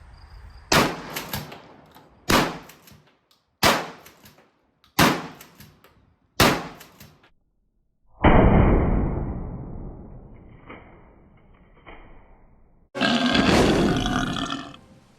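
A Smith and Wesson 916A pump shotgun fires buckshot reloads: five loud, evenly spaced blasts with ringing decay, followed by two longer booming shots outdoors.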